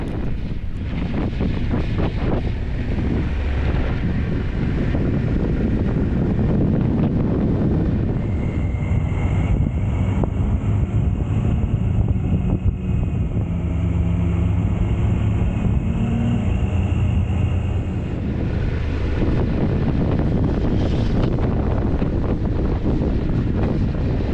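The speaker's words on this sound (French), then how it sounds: "Il y a beaucoup de vent aujourd'hui" Strong gusting wind buffets a helmet-mounted camera mic as a motorcycle rides an Alpine pass on the Route des Grandes Alpes toward the Col de l'Izoard, a loud, constant roar with engine and road noise beneath.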